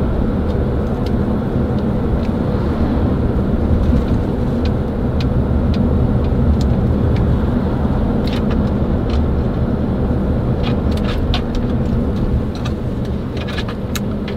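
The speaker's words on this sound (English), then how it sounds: "There's sort of a lot of traffic today." Heavy road traffic streams past on a busy day, a steady loud wash of car engines and tire roar with no quiet gaps, vehicles blending into a continuous rumble close by.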